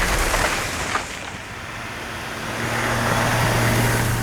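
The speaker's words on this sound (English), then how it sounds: "let's go back to the Macan and just drive it again" Porsche Macan small SUV on the move, a steady broadband road and engine rumble with wind noise, fairly loud and continuous, a brief dip partway through before the drone swells again.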